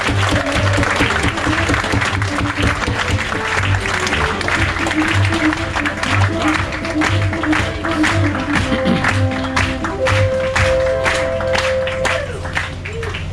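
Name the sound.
audience applause for the ship's captain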